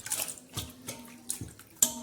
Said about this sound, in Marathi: आणि त्याच्यात असे भिजत टाकायचे.